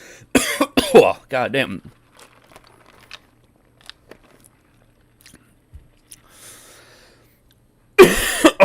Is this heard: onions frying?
no